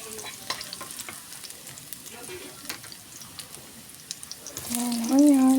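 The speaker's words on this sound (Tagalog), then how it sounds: "Gisa na tayo ng garlic." Garlic sautéing in a pan for a crab and long bean dish, a close, steady sizzle with scattered crackles and stirring scrapes, and a voice speaking near the end.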